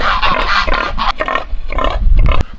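Pigs grunting and oinking in a short, loud burst of overlapping calls, with a few sharper squeals and a low thump near the end; no one speaks.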